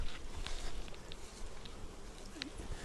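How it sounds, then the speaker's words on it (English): Honeybees fly around a hive entrance outdoors, a soft buzzing with a few individual bees passing close, heard faintly under wind and background noise. "not quite so many bees flying yet"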